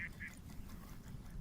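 Ducks at a pond give a couple of short, faint quacks at the start, then soft outdoor background noise.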